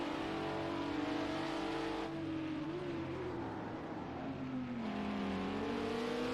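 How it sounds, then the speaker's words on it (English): Tyre squeal from Titan's racing car entering a corner at the Algarve circuit in a sim racing cup, a sliding tonal whine riding over the steady engine drone throughout. "Hear the tyre squeal on entry there for Titan"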